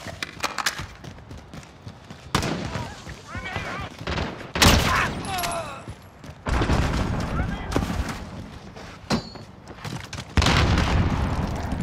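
A grenade blast in Call of Duty: Modern Warfare goes off amid loud broadband bursts and scattered gunfire, several heavy booms spaced through the scene with game voices calling out over the chaos.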